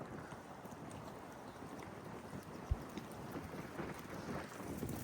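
Steady wind gusting across a lakeside on a hike, a broad continuous rush with low rumbling buffets against the microphone and a brief thump partway through.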